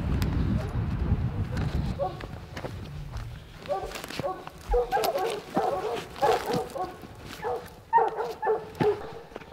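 Hounds bay repeatedly at a treed mountain lion in open hill country, the barks coming from a distance in a steady irregular chorus, with a low rumble of wind or handling noise at the start.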